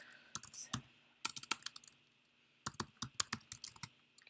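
Rapid clicking of a computer keyboard being typed on, in two bursts of keystrokes separated by a short pause, close and fairly quiet.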